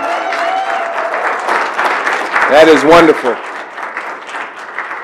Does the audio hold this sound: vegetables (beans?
no